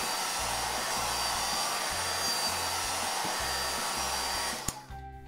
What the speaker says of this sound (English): I'll use the hair dryer to speed up the process.